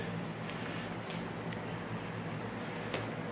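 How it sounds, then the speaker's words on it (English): Steady broadband whooshing of box fans running continuously at the ends of the rows in a bee barn, fairly faint, with a few small ticks and clicks over the hum. "The sound you can hear is the box fans at the end of the rows."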